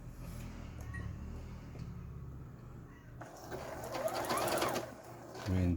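A Juki HZL-G110 sewing machine under repair stitches in reverse: after quiet talk, a short burst of fast, close stitching runs for about two seconds and ends in a soft mechanical clunk.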